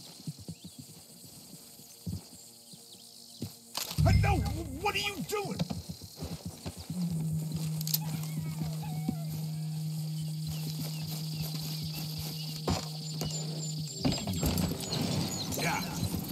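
A horse in the Western video game Red Dead Redemption 2 clip-clops on a street in the town of Valentine amid creaking tack and mechanical noises, with a short whinny among game sounds, while characters talk briefly.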